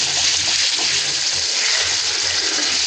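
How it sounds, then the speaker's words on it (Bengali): Water poured into a pot of dal with papaya cooking in oil, a steady loud gushing pour that runs unbroken throughout, with no voices. "তেল ছেড়ে এসছে এখন জল দিয়ে দেবো"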